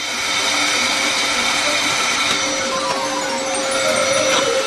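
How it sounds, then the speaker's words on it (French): A continuous whirring hair dryer with a steady airy hiss and motor hum, running at constant strength close by without a break. "Un sèche-cheveux ordinaire nous aidera."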